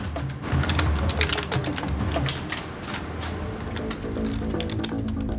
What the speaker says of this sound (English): They're called woodpeckers. That's because they hammer their keyboards very fast.